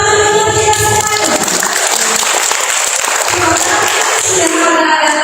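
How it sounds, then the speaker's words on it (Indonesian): A workshop audience claps in a loud, continuous burst that runs the whole length without pause, with a musical tone and some voices mixed in beneath. "Tepuk tangan untuk kita semua."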